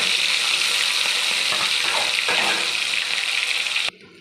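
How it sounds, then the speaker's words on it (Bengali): Prawns rubbed with salt and turmeric fry in hot oil in a wok, a loud continuous hiss with a few stirring bursts, then the sound stops abruptly near the end. "এবার আমি চিংড়ি মাছটাকে ভালো করে আগে ভেজে নেব।"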